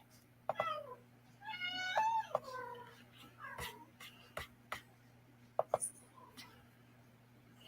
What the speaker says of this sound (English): little kitty there wanted her attention